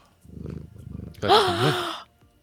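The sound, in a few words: person imitating a cat purr into the microphone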